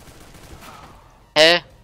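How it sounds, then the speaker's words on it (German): A short burst of gunfire from a Counter-Strike: Global Offensive match, a single loud close crack near the end after quiet game ambience with faint talk. "Warum schießt er mich ab?"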